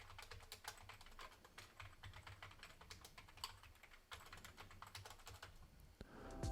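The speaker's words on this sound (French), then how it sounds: "Et le clavier qui ressemble plus à un clavier de gamer." Rapid typing on a gaming-style computer keyboard, a dense run of clicking keystrokes at steady close range with no talking, recorded through a Logitech Blue Sona dynamic XLR podcast microphone.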